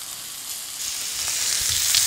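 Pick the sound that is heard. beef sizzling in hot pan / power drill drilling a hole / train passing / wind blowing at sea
beef sizzling in hot pan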